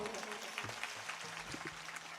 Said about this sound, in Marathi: एकदा जोरदार टाळ्या होऊन जाऊ द्या